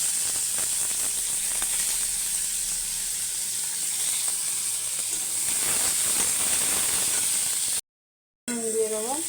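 Chopped onion dropped into hot oil with cumin and a bay leaf, giving a steady, loud, close hiss and sizzle that carries on without a break before a brief cut, with a voice speaking faintly at the very end.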